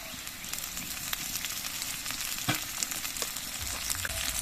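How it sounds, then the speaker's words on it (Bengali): Potatoes frying in hot oil with slit green chillies just added for a tangra fish recipe, a steady dense sizzle with crackles and a few stirring knocks, no voices. "এবার এর মধ্যে দিয়ে দিচ্ছি কয়েকটা চেরা কাঁচা লঙ্কা"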